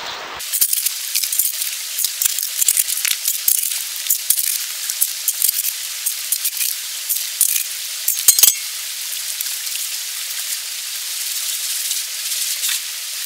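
Gravel and water are swirled and sloshed in a gold pan at a river, a continuous wet hissing wash broken by rattling grit and a few sharp clinks, close up and without talk.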